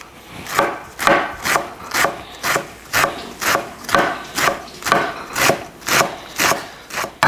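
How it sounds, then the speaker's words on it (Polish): Beet greens with lovage and dill finely chopped by knife on a board, an even rhythmic series of about fifteen crisp, close chops with a soft rustle between strokes. "Resztę tutaj wszystko sobie posiekam na drobno."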